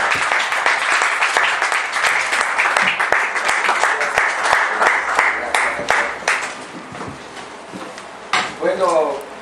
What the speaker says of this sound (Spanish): fuerte el aplauso para todos